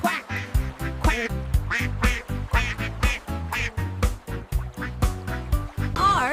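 Cartoon duck quacks repeat over a bouncy children's alphabet song, riding loud and close on steady backing music with a voice weaving in at times.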